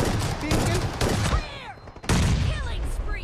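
Shotgun and other gunfire blasts in a fast team deathmatch video game, loud dense bursts of shots with a brief lull in the middle before firing resumes.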